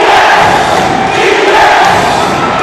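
Loud roaring crowd in an indoor basketball arena, the Vitaliano Agan Coliseum, during a close MPBL game between Batangas and Zamboanga; a dense, steady wall of cheering and shouting fills the hall without a break.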